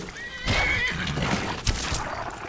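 A horse in the video game Skyrim gives a loud, close whinny with a rising, wavering tone, followed by snorting and a few hoof clops, with no talk over it.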